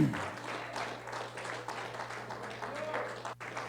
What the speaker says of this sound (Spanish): Dele el aplauso si lo quiere glorificar.